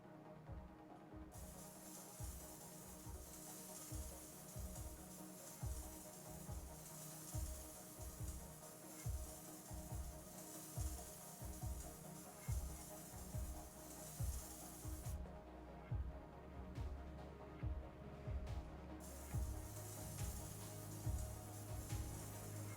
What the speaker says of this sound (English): I'm just gonna get the spray paint.